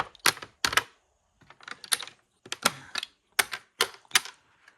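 Hard plastic checkers clack and click together in quick irregular bursts as they are stacked on a lucite tabletop backgammon board, sharp and close, with brief pauses between clusters.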